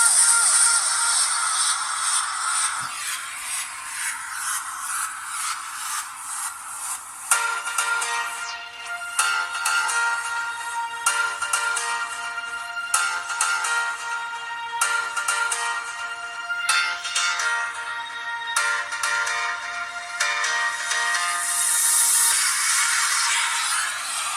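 A song plays through the headphone jack of an Oukitel C5 smartphone, a continuous tonal musical passage with steady loudness, brief shifts and pauses between phrases, heard alone with no talking.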